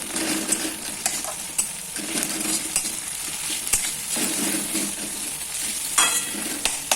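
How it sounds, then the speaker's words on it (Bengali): Red chili powder and spices sizzle in a cooking pan while a spatula stirs and scrapes, giving soft irregular clinks over a constant close frying hiss. "সানরাইজের এই লাল লঙ্কা গুঁড়ো দেওয়ার পর একটু নাড়াচাড়া করে নেব।"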